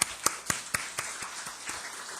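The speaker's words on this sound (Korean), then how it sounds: "우리 한번 어른들을 위해서도 박수 한번 쳐주십시다." A church congregation claps in a steady rhythm, about nine distinct hand claps at a moderate, even pace, fairly faint and with no talking over them.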